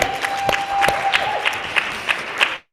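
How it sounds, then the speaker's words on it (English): A small conference audience gives brief applause for the presenters, a dense patter of clapping with a few sharper claps standing out, fading out quickly after about two and a half seconds. "Can we have a round of applause for our presenters again?"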